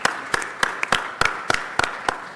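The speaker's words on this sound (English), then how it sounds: "Let's give them a round of applause." An audience at a city council meeting claps in a sharp, evenly spaced rhythm, with loud distinct claps coming about three times a second and little else between them.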